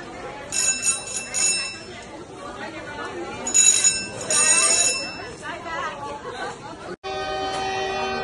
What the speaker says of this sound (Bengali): এই যে আবার বেল বাজে যাচ্ছে, মানে the train is about to come